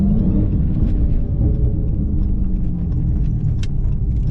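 A tuned Dodge SRT Hellcat Charger droning with a deep, steady engine rumble from inside the cabin while driving, loud and continuous with a faint click or two on top, no talking.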